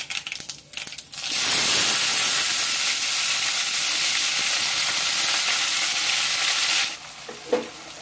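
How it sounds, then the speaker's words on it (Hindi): Potatoes dropped into hot oil with crackled panch phoron burst into a loud, close sizzle that holds steady for several seconds while being stirred, then fades to quieter pan sounds with a soft clink. "फुटण टिके फुटी गला परे आम आलू को पकेबा।"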